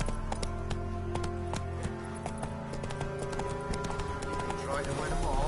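A horse gallops in The Witcher, quick rhythmic hoof clops beating steadily through the moment alongside game music.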